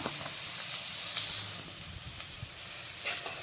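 Chopped onion frying in a pan for masala dosa, a steady soft sizzle and hiss with occasional faint stirring clicks, alone and fairly close.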